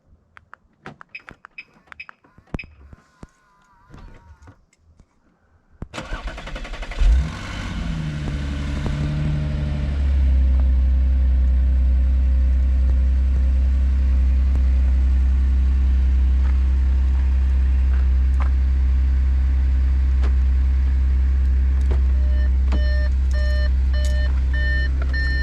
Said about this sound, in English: Remote start 2016 Audi SQ5.